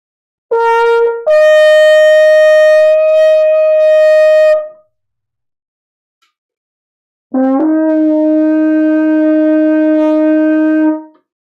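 A French horn sounds two long sustained notes close to the microphone, the first held about four seconds after a brief lower attack, then a pause and a second lower held note, played alone with no talking.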